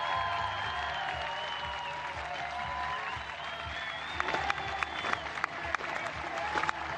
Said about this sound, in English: Clapping off the opposition as they come through the tunnel.